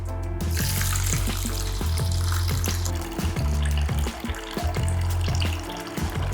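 Tap water running steadily into a bowl while rice is rinsed, a close, full splashing flow with occasional swishes and knocks as the grains are moved around.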